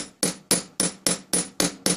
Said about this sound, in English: Now, if I want to make it look pretty and nice and flat, I can hammer it a lot harder.